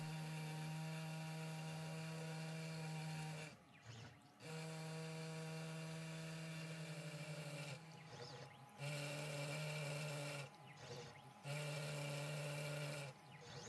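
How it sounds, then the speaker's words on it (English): A DC motor rigged as a Wagner hammer buzzes at 12 volts, a steady, faint electric hum with strong tonal harmonics, broken by several brief gaps where the buzzing stops and restarts. "If everything is set correctly, this motor also works as a Wagner hammer at 12 volts."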